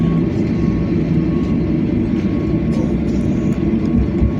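Airliner landing at Sydney Airport, heard from inside the cabin as a loud, steady low engine and airflow roar with no break throughout.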